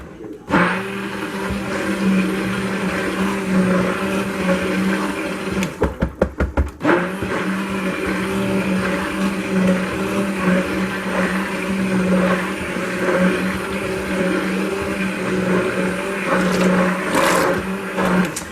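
A steady mechanical whir runs throughout, with a brief sputtering break partway through, as a stick blender churns thick cold process soap batter.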